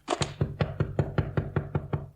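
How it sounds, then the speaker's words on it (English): About a dozen firm knocks on a thin-panelled back door, evenly paced and close by, each rap sharp and hollow with nothing else around them. "knocked on the back door"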